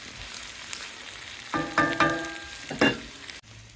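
Onions and chorizo fry in a wok over a Thüros T1 with a wok ring, a soft steady sizzle punctuated by a few louder clattering stirs and scrapes near the end.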